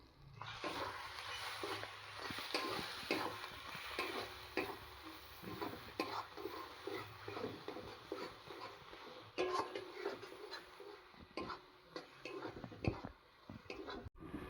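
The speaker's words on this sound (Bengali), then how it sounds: "এটাকে আমি এবার ভালোভাবে নেড়ে নেড়ে রস শুকিয়ে নেব।" Bottle gourd peel paste with two slit green chillies is stirred and fried in a pan, giving a steady soft sizzle broken by repeated scraping and clinking strokes of a spatula, close up with no talking.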